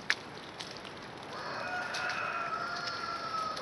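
A flock of farm chickens raises an alarm call, a steady stretch of agitated cackling carrying at moderate distance over a constant outdoor hiss.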